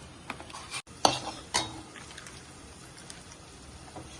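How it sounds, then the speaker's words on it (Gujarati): Maida flour roasts in melted butter in a pan for a pasta sauce, a faint low sizzle broken by a few sharp spoon clicks and scrapes of stirring near the start, close and quiet. "મેદો શેકાઈ ગયો છે થોડો"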